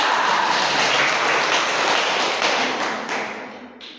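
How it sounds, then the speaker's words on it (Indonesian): Classroom applause for a student group fills the room with dense, continuous clapping that is loud at first and thins out toward the end, with no talking over it. "Tepuk tangan untuk kelompok 3."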